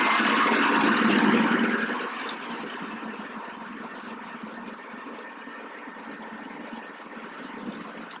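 A Robinson R22 helicopter engine and rotor run steadily on the ground at an airport taxiway, a loud, continuous broadband roar that swells briefly at the start and then settles to an even drone, with no talk.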